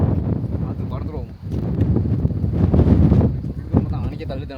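Strong gusts buffet the microphone on a mountain hike near Delthota, Sri Lanka, roaring almost continuously with rising and falling force while people talk through it.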